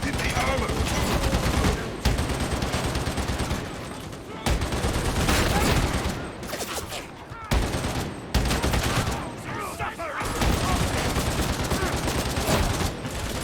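Sustained gunfire from Warhammer 40,000 Darktide, loud dense bursts of automatic shots in long stretches separated by brief pauses, with a voice talking over parts of it.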